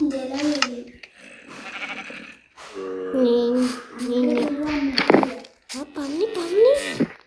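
A person vocally imitating a goat's bleat, producing several wavering, nasal bleat-like calls mixed with ordinary speech, close and fairly loud.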